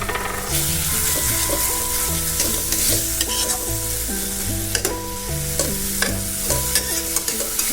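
Sauce frying in a pan while cooking a bread chop filling, a loud close sizzle with stirring scrapes and clinks, layered over steady tonal background music, with no talking.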